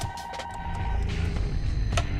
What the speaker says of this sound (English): I know the phone's ringing.